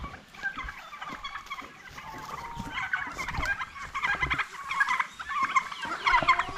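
A flock of turkeys of mixed brown, black and painted colouring gobbling repeatedly in bursts, fairly close and growing louder toward the end, with no talk.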